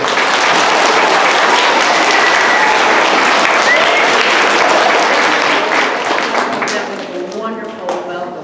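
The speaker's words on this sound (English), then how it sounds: "So let's give her a nice cheer. Let's applause for her." Loud, dense applause fills a school assembly at Mullen-Hall School, steady for several seconds before thinning out and trailing off with a few scattered claps at the end.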